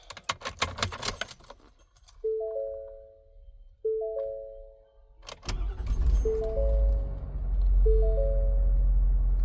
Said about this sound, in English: We'll fire it up.